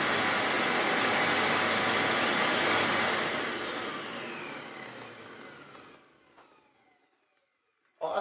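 A 1998 Sebo X1 upright vacuum cleaner runs with no brush roll fitted, a loud steady motor whine and airflow that winds down over several seconds to near silence before a brief burst restarts at the end.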